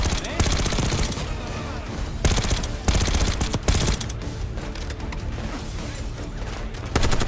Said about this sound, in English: Someone shooting me from behind.